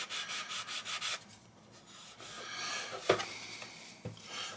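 A sanding stick rasps back and forth on a plastic model kit part for the U.S.S. Reliant in quick, close strokes, then eases to quieter rubbing broken by two sharp knocks.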